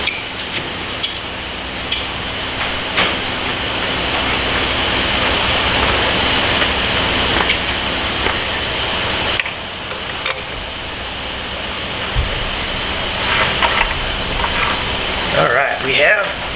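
Caterpillar 4L diesel engine in a Ford FSJ cranking over in a steady, continuous mechanical whir, with brief pauses and clicks and a fainter stretch near the end.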